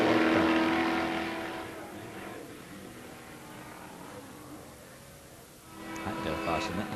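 Allen SSE001 single-seat Can-Am sports racer on track: the engine roar fades as the car dives into a turn, then swells again near the end, under a voice talking.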